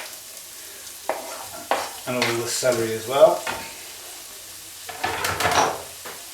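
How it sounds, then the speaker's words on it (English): Vegetables sizzle and get stirred in a pan with scraping and tapping, while a person talks over the cooking noise. "in the pan frying with the onions for another 2 to 3 minutes"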